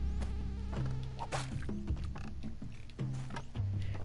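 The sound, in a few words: mosquitoes buzzing in Spelunky 2 video game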